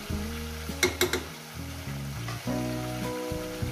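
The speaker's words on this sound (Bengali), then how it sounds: "দেখছেন বন্ধুরা, কীভাবে এই মাংসটাকে ভেজে নিচ্ছি" Chicken meat frying in a pan on a cold evening, a steady close sizzle and crackle running throughout with a few sharper spatters near the start.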